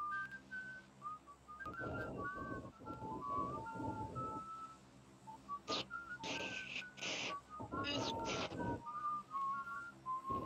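A person whistles a bright, wavering tune in short phrases, close and fairly loud, with sharp clicks and brief bursts of other sound cutting in partway through.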